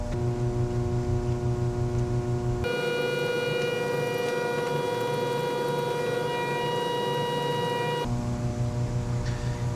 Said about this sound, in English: This is an ultrasonic cleaner, and as soon as I start, I want to have this starting to heat up.